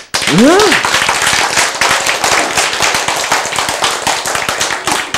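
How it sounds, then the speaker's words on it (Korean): A church congregation breaks into loud, dense applause during a sermon, many hands clapping close and steadily for several seconds, opened by a brief rising vocal whoop at the start. "박수."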